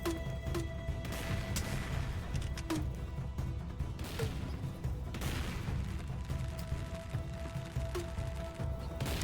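Repeated booming shots from a handheld cannon in the co-op crawler game DuneCrawl fire at irregular intervals over a dense, continuous bed of game noise and clatter, with a few sharper bursts standing out.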